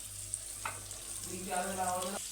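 Mutton added to a spice paste in a pot sizzles and fries softly, with a faint stirring scrape and a brief louder sputter toward the end.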